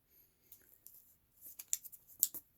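A sheet of paper is folded and creased by hand, giving faint, close crinkles and a few sharper rustling presses near the end, with no voices.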